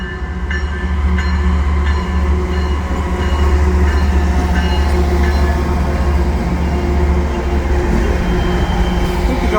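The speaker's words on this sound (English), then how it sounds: "Look at all this locomotives. It's a power move. With BNSF." A CN freight train led by seven locomotives, including BNSF power, passes at St. Lambert station with a loud, steady rumble of engines and rolling wagons and faint rhythmic clicks from the rails.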